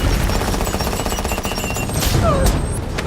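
Sustained gunfire from soldiers in the Man of Steel film, a dense continuous barrage of rapid shots with a loud burst near the end, set against a busy battle soundtrack.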